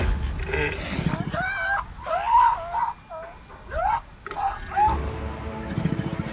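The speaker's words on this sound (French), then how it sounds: "Il pousse à nouveau des grognements." A male animal in a breeding colony on the Mexican coast lets out rough, strained grunts and guttural calls in short bursts, loud and close, over a narrator's voice.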